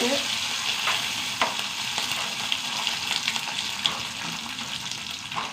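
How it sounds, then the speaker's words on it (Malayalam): Mustard seeds and a couple of dried red chillies sizzle in hot oil, a dense, continuous crackling fry close up, with small pops and light utensil clatter and no talk. "കുറച്ച് കടുക് വറ്റൽമുളക് രണ്ടോളം"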